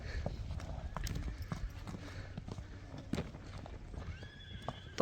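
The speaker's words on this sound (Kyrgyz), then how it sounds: "Жылкы колго дагы жоош экен туугандар." A horse whinnies and its hooves clip-clop in an uneven, steady rhythm at close range, with people talking faintly in the background.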